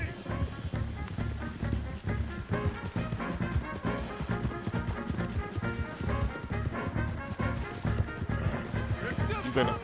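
Rapid horse hoofbeats pound in a steady galloping rhythm in Red Dead Redemption 2, mixed with game sounds and voices talking over the top.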